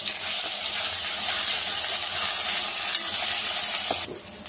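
Ginger paste frying in oil in a pan for an egg gravy curry, a steady close hiss and sizzle that runs evenly, then drops off sharply near the end.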